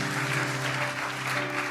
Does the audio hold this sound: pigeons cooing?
no